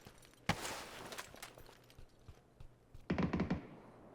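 Video-game gunfire off to the right: a sharp single shot, then a tight burst of rapid shots a few seconds later, moderately loud against quiet in-game ambience.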